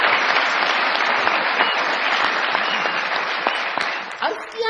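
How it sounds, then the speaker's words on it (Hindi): Studio audience on a Pakistani comedy talk show applauding to welcome actress Faiza Hassan, dense steady clapping that fills the clip and tapers slightly at the end, with a voice briefly heard at the close. "बहुत सारी तालियों में वेलकम कीजिएगा"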